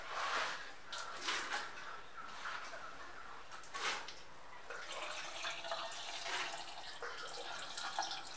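Boiled and cooled water is poured into a pickle mixture, giving faint, intermittent splashing and trickling bursts with short pauses between pours, quiet and without speech.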